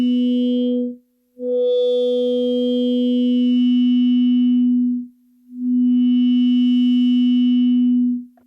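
A Groove Synthesis 3rd Wave synthesizer plays a steady low tone through its low-pass filter, two long sustained notes separated by a brief gap, then a third held note, smooth and mellow with a faint upper ring and no voice.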